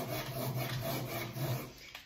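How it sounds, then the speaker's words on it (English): A block wrapped in 40-grit abrasive is pulled along a snooker table cushion to take out knife backs: a continuous, close, harsh rasping scrape, steady and loud, with no voices. "I'm just going to take these knife backs out using our block and 40 grit"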